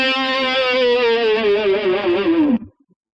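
A single sustained electric guitar note, heavily overdriven, with the pitch dipped gradually downward by the whammy bar over about two and a half seconds, wavering slightly before cutting off abruptly.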